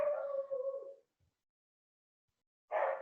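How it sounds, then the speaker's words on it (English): A dog howls nearby with a sustained, wavering tone that fades after about a second, then after a short silence a second howl begins, both loud and clear in a quiet room. "You might hear my dog in the background."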